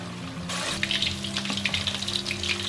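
Steady crackling sizzle of fish frying in hot oil in a pan, with a low hum underneath and no one speaking.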